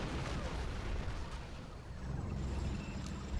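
Artillery friendly fire in the real-time strategy game Rise of the Reds, heard as a dense, continuous rumble of blasts and booming impacts that stays loud throughout with no clear breaks.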